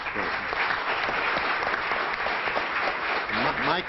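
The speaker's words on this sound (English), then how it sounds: "you've brought great honor to all of us, and we all applaud you" An audience at a Law Day celebration applauds award recipients with sustained, even clapping that fills the room, while a voice talks faintly underneath.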